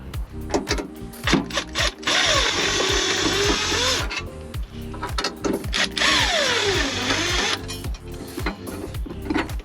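A power drill removes screws from a panel inside a van, whirring loudly up and down in repeated bursts close by, with rising and falling motor pitch and brief gaps between runs.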